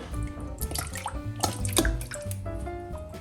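Pomegranate jam pours and splashes into water, with drips and sloshing that rise and fall close by; no voices.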